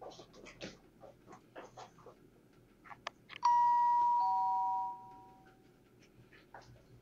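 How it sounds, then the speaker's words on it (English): A front-door doorbell chimes once at 3 a.m. with a clear two-tone ding-dong that rings out and fades over a couple of seconds, set amid scattered faint rustles and scratches. "her doorbell camera captured the same man walking up to the front door of her house and ringing the doorbell"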